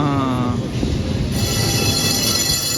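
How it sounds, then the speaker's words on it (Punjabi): A small tourist train rolls through an old European city, giving a steady, close, fairly loud rumble with faint wheel hiss and no break in the sound. "ਇੱਥੇ ਵੀ ਟ੍ਰੇਨ ਕਹਿ ਦਿੰਦੇ ਨੇ ਛੋਟੀ ਟ੍ਰੇਨ"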